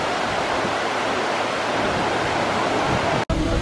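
Steady broadband roar of the Golden Waterfall in Taiwan, a dense continuous rush of falling water heard up close, with a brief dropout near the end.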